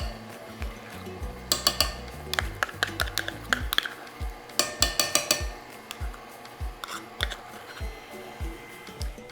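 An electric mixer runs on low, blending pumpkin puree into pumpkin chocolate chip cookie dough. A steady motor whir sits under repeated clinks and knocks as the beaters strike the bowl.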